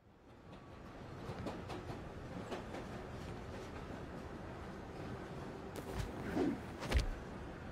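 Subway train riding in the Spider-Man Miles Morales video game, a steady rumbling ride with rhythmic clickety-clack of wheels on rails, a few sharper clanks near the end, no talk.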